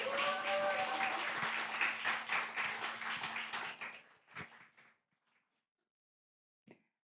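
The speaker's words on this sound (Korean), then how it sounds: "나오실 때 큰 박수 부탁드리겠습니다" A church congregation claps during a Sunday afternoon service, fairly loud and sustained applause with a faint sustained tone beneath, tapering off and stopping after about five seconds, followed by silence and one brief sound.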